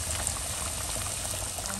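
Kerala-style chicken curry boiling in a pot, giving a steady, close bubbling and simmering hiss with no pauses.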